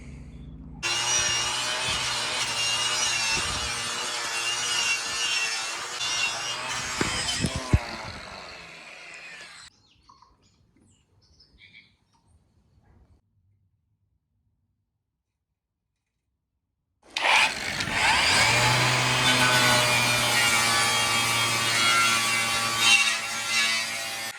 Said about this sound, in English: chuck some rust converter on it and do it with this wire wheel